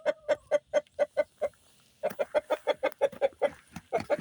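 Rescued laying hens, in poor condition, cluck in quick, regular bursts close by, pausing briefly before resuming their rapid clucking.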